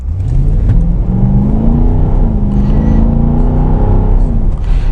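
A 2024 Nissan Patrol Warrior V8 with a bi-modal exhaust launches hard to 60 km/h, its loud, deep engine note climbing and rumbling steadily from inside the cabin.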